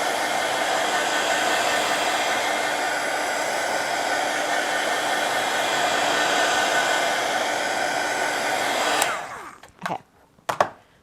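A hair dryer blows steadily on wet watercolor and distress ink droplets for about nine seconds as one loud, continuous airy roar, then cuts off, leaving a few faint handling taps.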